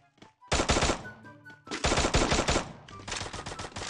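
Bursts of automatic gunfire from the video game Free Fire, rapid loud volleys in three clusters separated by short pauses, with faint game effects between them.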